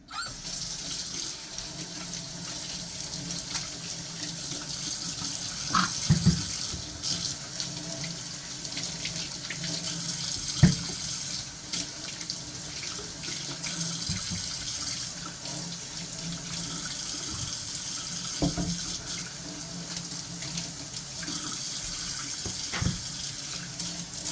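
Tap water runs steadily into a sink while plantains are washed in a kitchen, a close, continuous splashing stream with small shifts in flow and no speech.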